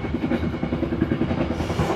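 The Matarmaja train runs on the rails between Jakarta and Malang, heard from inside the carriage as a steady rumble with a rhythmic clickety-clack of wheels over rail joints.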